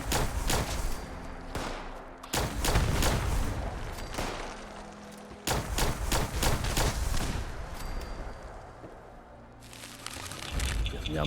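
Rapid bursts of video game gunfire from Fallout 76 rattle out in dense, loud volleys across most of the stretch, with brief pauses between firefights and a few booming hits mixed in.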